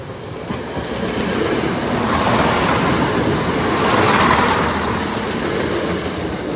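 A train pulls slowly into Saxilby at the level crossing, giving a steady rumbling roll with faint rail clatter that swells and fades gently over several seconds, fairly close.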